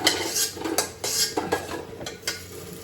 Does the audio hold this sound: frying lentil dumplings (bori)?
yes